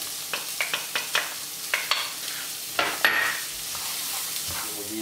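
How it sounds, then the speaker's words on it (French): Onion and garlic sizzling in a frying pan, a constant bright hiss broken by a rhythmic run of spatula scrapes and taps against the pan, close and fairly loud. "Faites revenir pendant à peu près 3 minutes, donc l'oignon et l'ail."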